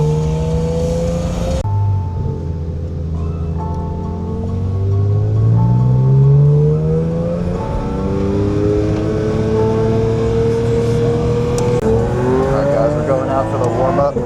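Porsche GT3 RS and Cup race cars rev on a circuit, engines rising and falling in pitch close by under a constant motorsport roar, with people talking over it.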